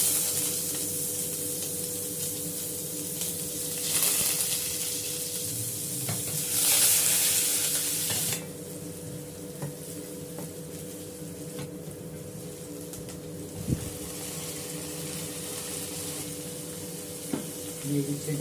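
Chopped garlic fries in hot oil in a heated frying pan while vegetable egg noodles are prepared, giving a steady close sizzle broken by stirring scrapes, a louder spitting burst midway, and low hum beneath.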